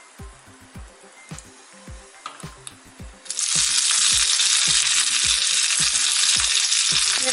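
Mustard seeds, two dried chillies and curry leaves hit hot coconut oil for a Kerala kadala curry tempering: a few sharp pops and ticks first, then a sudden loud, steady hissing sizzle that fills the rest.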